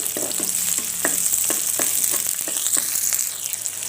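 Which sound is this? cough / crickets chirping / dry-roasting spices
dry-roasting spices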